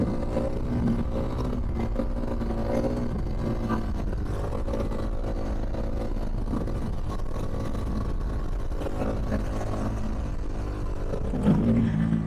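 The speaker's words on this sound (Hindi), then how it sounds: "देखो देखो आप सेकंड गियर में बाइक कहां तक जा सकती है।" A motorbike accelerates in second gear, its engine holding a steady, loud drone with harmonics that climb and fall across the run, continuous and close throughout with no speech.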